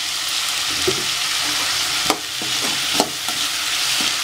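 Onions cooking with chili and salt in a pan for tomato chutney, giving a loud, continuous close sizzle broken by several spatula scrapes and clicks spaced irregularly, with no voices.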